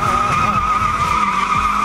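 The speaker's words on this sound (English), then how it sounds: "Oh, these things are awesome. Great for drifting." Polaris Slingshot three-wheeler drifting at the LA Auto Show, tires skidding in a loud continuous squeal with engine roar underneath, close and without talk.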